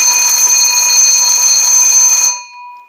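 A loud, steady fire alarm bell rings continuously up close, set off by a smoke detector, then cuts off abruptly, leaving a brief fading tone.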